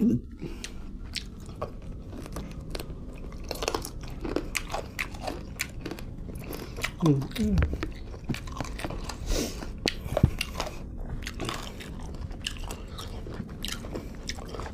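Crispy boiled chicken wings, served in fish sauce, are bitten and chewed close up, with repeated crunches and wet chewing through the clip and a louder bite around the middle; someone speaks intermittently.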